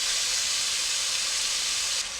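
Beef cube steak strips laid in a single layer in a hot pan give off a steady, loud, hissing sizzle that runs unbroken, then drops slightly near the end, with no talking.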